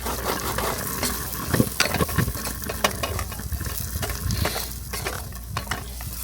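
Peppers sizzle in a cheap thin pan on a COFIYARD 20k BTU dual burner camp stove, with a steady frying hiss broken by scraping stirs and clinks of the utensil against the pan.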